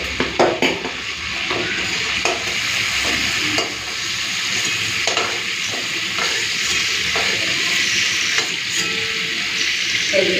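Shrimp frying in hot oil in a pan for an elephant yam and shrimp curry, a loud steady sizzle and hiss with occasional scrapes and clinks of a utensil against the pan, no talking.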